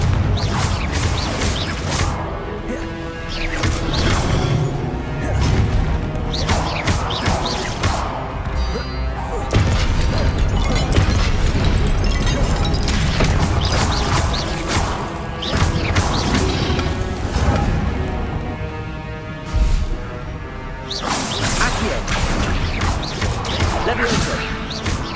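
Repeated fiery blast explosions from the Confringo spell in Hogwarts Legacy, a string of loud crashing bursts one after another amid whooshes and impacts, dense and continuous with brief lulls, while a voice shouts spell names.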